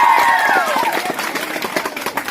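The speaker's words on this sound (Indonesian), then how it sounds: "Tepuk tangan untuk mereka dulu. Harus besar. Tepuk tangan sekali lagi." Audience applauding Sunday school students at a church gathering, a dense patter of clapping from many hands that starts under a fading voice and continues steadily.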